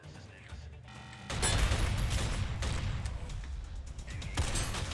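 Gunfire in the top-down shooter Synthetik, a loud dense burst of rapid shots and impacts starting after a quieter opening and continuing to the end of the clip.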